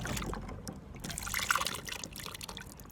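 Water trickles and splashes from a watering can into a bowl during children's water play, a close, uneven stream of liquid over a few seconds with no talking.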